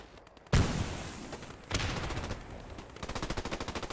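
Machine gun fire in the Post Scriptum combat game: a sharp close burst, a second burst moments later, then a rapid rhythmic rattle of shots toward the end, loud against a quiet background.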